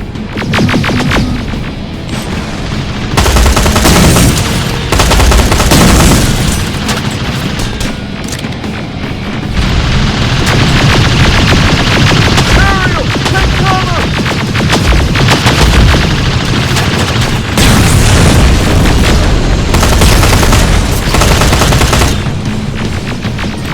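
Gunfire in the video game Terminator Resistance: loud, dense bursts of automatic shooting and blasts arrive in rapid clusters, with brief lulls, crashes and a few electronic whines mixed in.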